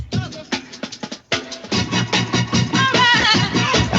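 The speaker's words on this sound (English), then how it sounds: "And it's sped up a bunch. So the original speed is like this." A break drum loop played back at its original speed, a loud funky pattern of punchy kicks, crisp snares and hi-hats with a vocal shout and bright brassy stabs, briefly dropping out before resuming.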